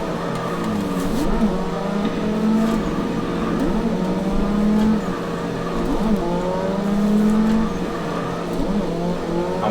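A car drifts in the Assetto Corsa racing game, its engine droning steadily with rising and falling revs while the tires squeal through long slides, loud and continuous with no speech.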